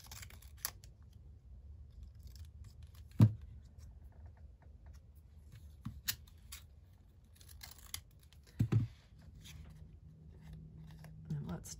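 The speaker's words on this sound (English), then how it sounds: "I'm gonna cut off just a tiny bit more." A few scissor snips cut paper while making a handmade journal, heard as short isolated crisp clicks over a soft room hum, close and fairly quiet.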